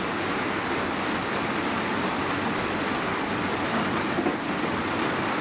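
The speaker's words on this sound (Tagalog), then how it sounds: "Talaga malakas ang ulan dito, malakas." Heavy rain pours down steadily, a dense, loud, continuous hiss and roar with no breaks and no voices.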